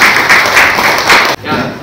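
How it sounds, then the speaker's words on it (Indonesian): Classroom applause for a student, a dense wash of many hands clapping at once that breaks off sharply near the end, with a murmur of voices continuing after. "tepuk tangan untuk Raffi"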